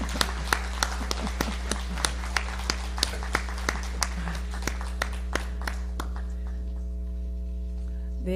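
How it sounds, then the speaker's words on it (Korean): Steady applause from an audience at a Korean government award ceremony, crisp claps spread evenly over a constant electrical hum, gradually thinning out and fading toward the end. "박수 부탁드립니다"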